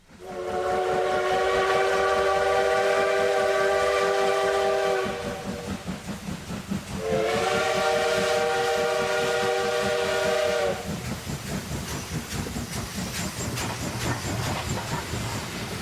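A train rumbles along steadily while a steam whistle blows twice in long, loud blasts, with hissing and rolling wheel noise throughout.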